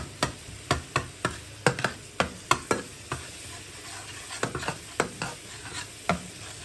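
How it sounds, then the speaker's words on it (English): Garlic and ginger fry over moderate heat in a pan for Sindhi biryani. A spoon stirs and taps them in quick regular knocks above a soft continuous sizzle, close up and with no voices. "garlic and ginger's cooked a bit, beginning to stick to the bottom, caramelize"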